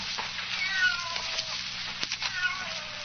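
A cat meows repeatedly in drawn-out, wavering cries, fairly close and loud, with a brief sharp knock partway through.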